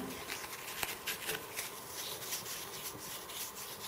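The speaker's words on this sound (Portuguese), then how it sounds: "Vamos dar uma lixadinha com essa lixa aqui para ele ficar lisinho." A motorcycle crank pin being sanded by hand with sandpaper: a continuous close, gritty rubbing with rhythmic back-and-forth strokes and one sharp tap early on.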